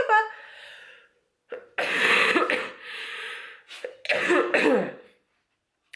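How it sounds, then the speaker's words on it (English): A young child coughs indoors in several harsh, throaty bursts with short pauses between them, close and fairly loud. "This cough."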